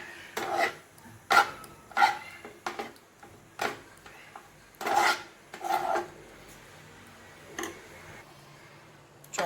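Jowar (sorghum) flour is stirred into hot water in a pan on a switched-off stove, giving intermittent scraping and rasping strokes with soft clicks against the pan, close and fairly quiet, with pauses between bursts.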